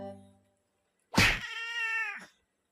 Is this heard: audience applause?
no